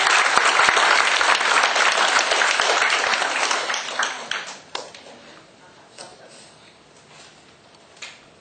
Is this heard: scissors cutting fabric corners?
no